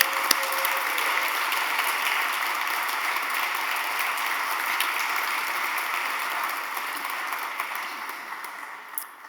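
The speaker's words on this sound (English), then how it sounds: "he really deserves the applause" Sustained applause from a large audience, an even wash of clapping that holds steady and tapers slightly at the end.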